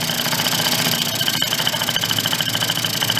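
A Yamaha Vino scooter pulled from a barn idles with its air cleaner off, the small engine ticking in a steady, slightly uneven rhythm, close and fairly loud with no talk over it.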